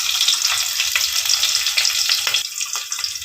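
Onion, ginger and fennel seeds frying in hot oil give a steady, close crackling sizzle with small pops and brief stirring scrapes, no voices.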